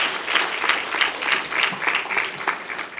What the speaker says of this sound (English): Could you please give her a round of applause